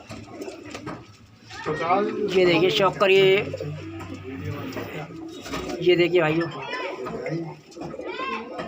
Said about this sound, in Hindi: ये बैठे कुछ कबूतर